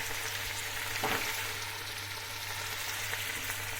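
Dried green beans sauté in a pan with salt and red pepper powder, giving a continuous close sizzle and fry along with a faint scrape of stirring.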